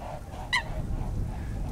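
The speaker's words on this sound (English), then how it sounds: "Swans flying over." A single short honking call rings out from a mute swan flying overhead, over a low rumble of outdoor background noise.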